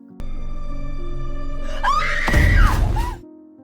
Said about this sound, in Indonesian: Seojin langsung teriak.